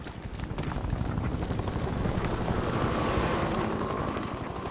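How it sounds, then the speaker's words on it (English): A helicopter in the Black Mesa game drones continuously with a dense, chopping rotor rumble, loud and steady throughout with no talk over it. "The helicopter's back."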